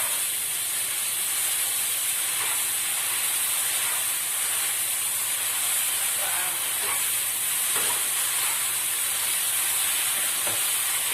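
Pad Thai noodles stir-frying in a pan, a continuous loud sizzle and steamy hiss with faint scraping of stirring underneath, steady from start to finish.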